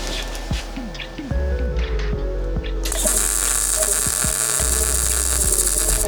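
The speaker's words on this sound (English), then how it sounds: "Yeah, let's weld it." Welding on the sill of a Subaru WRX STI. A crackling buzz with intermittent pops and chirps gives way to a loud, steady hiss partway through. The sound is close and continuous, and no one speaks over it.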